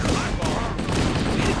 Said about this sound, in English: Covering fire! Those Marines could use some help, Chief.